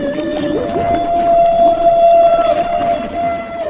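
A humpback whale gives a long, loud, sustained tonal moan that holds steady and then trails off, set against a constant rumbling underwater background.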